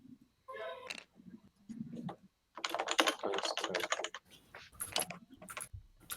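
Someone types on a computer keyboard during a board game session, with close bursts of rapid key clacks separated by short pauses and some faint background voices.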